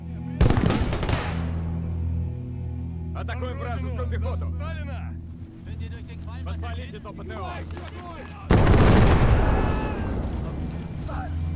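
Gunfire and grenade blasts from the Gates of Hell: Ostfront war game in a Don River defense battle, two sharp loud explosive bursts framing a stretch of rumbling battle noise and distant shots, with voices talking in between.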